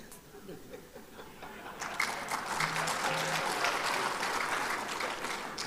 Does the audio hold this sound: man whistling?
no